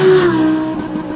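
A 2020 Audi R8 engine revving high and loud, a strong steady tone that eases slightly in pitch as the revs settle, with no voices over it.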